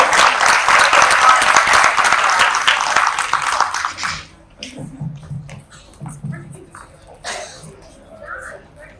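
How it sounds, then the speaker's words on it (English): An audience at a talk on wealth building breaks into loud applause that lasts about four seconds, then cuts off to quiet room sounds and scattered voices. "Round of applause."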